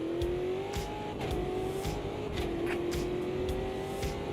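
Race car engines in Automobilista 2 drone and rev alongside, a strong whining tone that shifts pitch as gears change, with occasional sharp clicks and bursts over a constant road rumble.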